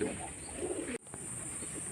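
Old-line Madras pigeons coo in low, soft, rolling phrases nearby, broken by a brief gap, over a steady high background hum.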